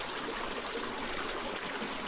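Clear stream water flows over a sandy bed in the Ottawa National Forest, a steady, full trickling rush with no pauses and no voices.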